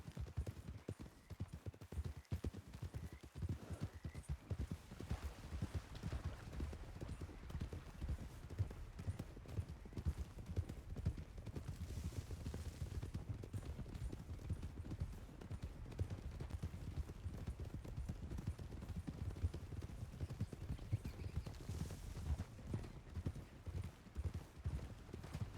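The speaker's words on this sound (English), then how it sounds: "Horses" Horse hooves clip-clop steadily in a video game, a continuous rhythmic trotting heard at moderate distance and low level throughout.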